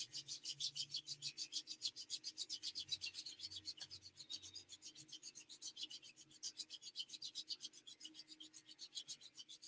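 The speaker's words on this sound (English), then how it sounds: "rubbing them together vigorously, and you get some friction and heat and energy going" Two hands are rubbed together vigorously in a fast, steady back-and-forth, a close, dry swishing friction that keeps going for several seconds with no voices.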